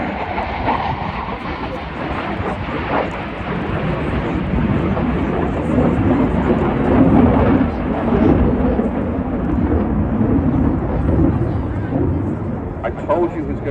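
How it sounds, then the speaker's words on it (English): RAF Eurofighter Typhoon jet flying a display at the Wales air show in Swansea, a loud, broad roar that swells and stays heavy, with crowd and commentary murmuring underneath. "here comes the Eurofighter Typhoon"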